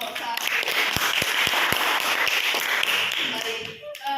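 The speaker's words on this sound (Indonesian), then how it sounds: "beri tepuk tangan untuk kelompok 1." Classroom applause for a student group: a steady wash of clapping from a room of pupils, with several sharper nearby claps standing out early on, fading slightly near the end.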